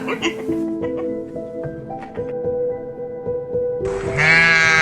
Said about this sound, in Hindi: तीसरे दिन वह फिर भेड़ों को चराने ले आया।